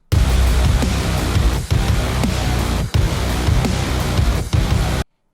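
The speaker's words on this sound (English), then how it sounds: "you can just hear one main synth sound that sounds kind of like an FM thing" A dense, bright FM-style synth tone with a deep low sine bass underneath, playing continuously for about five seconds with brief dips, then cutting off abruptly; a synth from the Doom Eternal music remade in Ableton Live 11.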